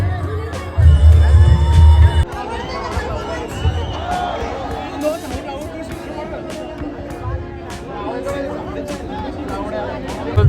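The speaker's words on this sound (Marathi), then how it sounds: "हिंदवी पाटीलला बघायला गर्दीच गर्दी, फुल गाडा, फुल जल्लोष पोरांचा" A large crowd at a Dahi Handi festival dance, a continuous dense babble of voices with a louder burst of cheering near the start and a speaking voice over the noise.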